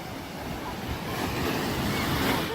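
Ocean surf breaks and washes along a beach in a steady rushing roar that swells slightly, with wind buffeting the microphone and no voices.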